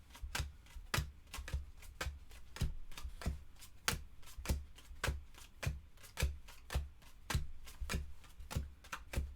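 A deck of cards from the board game It's A Wonderful World gets a lazy, unhurried shuffle: a steady run of crisp, close clicks and slaps repeating at an even rhythm for several seconds, with no talking.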